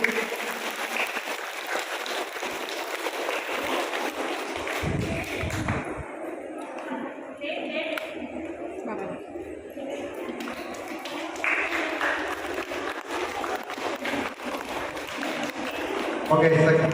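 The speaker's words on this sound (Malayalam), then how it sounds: "ഒരു ക്ലാപ്പ് കൊടുക്കുക." Schoolchildren clap together at a school Reading Day assembly, a dense patter of many small hands running on and off under continuing talk and crowd noise.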